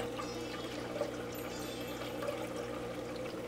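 Water pours and trickles steadily as a coral frag is gently rinsed over an aquarium sump, a soft continuous splashing close by without talk.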